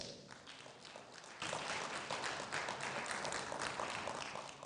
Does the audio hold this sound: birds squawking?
no